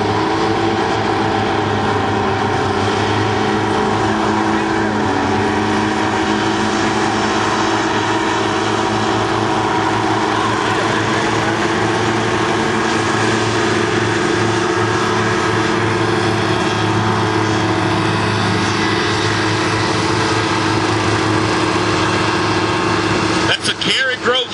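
Twin-engine UH-13PT trainer hovercraft racing on a course and crossing back onto a bank, a loud steady engine and propeller roar that runs throughout, with a burst of noise near the end.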